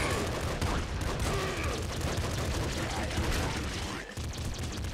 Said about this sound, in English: Triple machine gun, anybody?